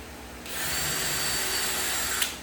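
Ryobi power drill drilling screw holes in wood for a handmade flag, one steady whine lasting about two seconds, close and fairly loud.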